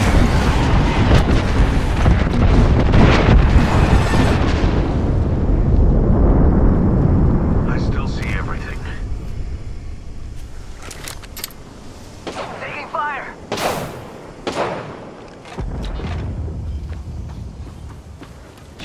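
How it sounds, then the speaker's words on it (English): Loud, dense rumbling blasts from an in-game airstrike fill the opening seconds of a shooter video game, fading into scattered softer impacts and crackles, with a voice speaking over parts of it. "Calling the airstrike."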